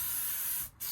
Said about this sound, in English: Spray it all right down.